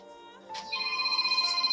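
A phone ringtone trills steadily during an outgoing call, with a repeating electronic ring pattern that starts after a brief rustle and carries on clearly to the end, fairly quiet overall.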